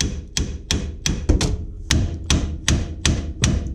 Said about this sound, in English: you take your trusty hammer, you just hit it on the side